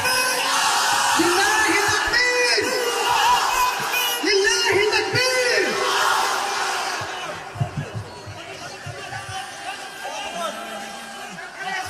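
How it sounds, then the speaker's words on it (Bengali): A large crowd at an Islamic mahfil gathering shouts a takbir chant, loud, massed voices in rising and falling bursts that swell, then thin into scattered yells and whoops toward the end. "এই তাকবীর দেন তো একটা ভাই, ওমরের মতো তাকবীর দেন, লিল্লাহি তাকবীর"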